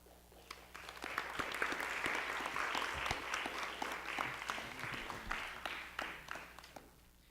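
An audience at a panel discussion on art and violent imagery applauds warmly after a talk. Many hands clap together in a sustained, fairly loud burst that swells and then gradually thins out, with a faint murmur of voices underneath.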